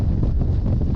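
Strong gusty wind roars across open river ice on the Pechora, a steady broadband rush buffeting the microphone for the full second with no voices.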